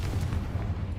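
A Confringo blasting curse exploding in the Hogwarts Legacy video game, a dense, low, rumbling blast that fills the whole short moment without any break.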